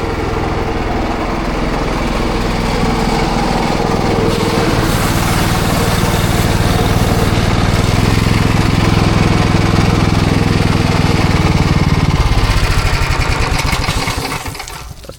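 A pressure washer's small engine runs loud and close for most of the stretch, a dense high-revving drone that holds steady and then cuts off near the end as the motor is shut down.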